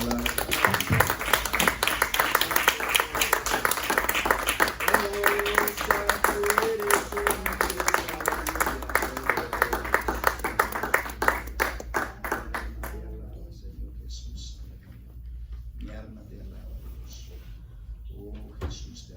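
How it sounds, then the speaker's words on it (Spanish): A church congregation claps loudly for the Lord, a dense sustained round of applause that fades out near the end, leaving quieter room sound with faint voices. "Denle un fuerte aplauso al Señor, hermanos."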